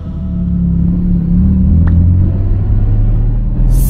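A Porsche 911 GT2 RS on track on a hot day gives a loud, deep, steady engine rumble heard close up, its tone rising as the car pulls away, with a brief sharp noise near the end.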